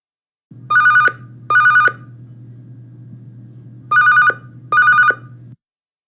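Telephone ringing in a quiet room, two double rings of a bright electronic bell separated by a long gap, over a steady low hum, loud and close with no voices.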